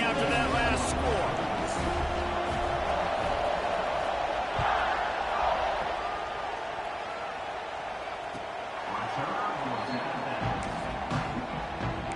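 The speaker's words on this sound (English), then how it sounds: "this crowd is buzzing after that last score" A crowd buzzes in a college football video game, a dense, steady roar of stadium noise filling the whole stretch with occasional louder swells.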